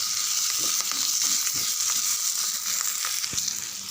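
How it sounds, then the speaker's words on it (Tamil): Tamarind and tomato sauté in a pan over medium heat, giving a steady close sizzle with soft scraping stirs now and then. "இன்னும் ஒரு 2 நிமிஷம் வதக்கி விடுங்க"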